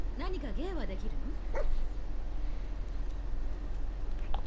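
A dog whining and whimpering in the video game Fallout 4, with rising and falling cries over a steady low game hum, and a voice speaking over it.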